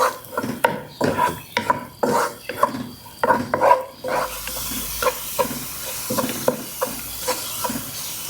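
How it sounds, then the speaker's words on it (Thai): Garlic frying slowly in a pan over low heat, a continuous soft sizzle with rhythmic scraping strokes, louder in the first half and then a steadier hiss. "ไฟอ่อนนะคะค่อยๆเจียวไปเรื่อยๆค่ะ"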